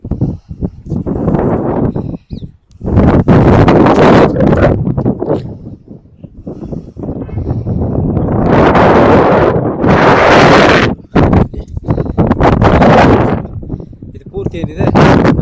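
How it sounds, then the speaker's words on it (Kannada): Strong wind blows through Bannerghatta forest near Bangalore, buffeting the microphone in loud, surging gusts that rise and fall for over fifteen seconds, with occasional brief lulls. "ಗಾಳಿ ಬೀಸ್ತಾ ಇದೆ ಆ ಒಂದು ಸೌಂಡು ತೋರಿಸ್ತೀನಿ ಬನ್ನಿ"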